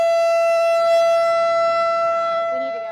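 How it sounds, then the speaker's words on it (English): A loud outdoor storm warning siren at a street festival holds a sustained, piercing tone with rich overtones, then dips and fades toward the end. "before those warning sirens went off"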